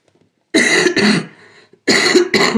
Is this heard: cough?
yes